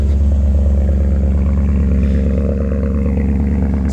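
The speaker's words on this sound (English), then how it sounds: "we'll just listen to what is pretty much a cold idle" A 2000 BMW M5 engine at cold idle around 900 rpm, idling steadily with a loud, low rumble and constant drone, close by, with no voices.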